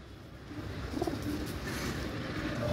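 Kalsira Madrasi pigeons coo softly now and then, a few low burbling calls against a steady background hum, with no talking.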